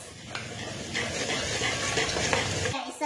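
Pancake batter with baking soda is stirred briskly in a bowl, giving a steady wet scraping and sloshing that runs close and even for a few seconds before stopping abruptly.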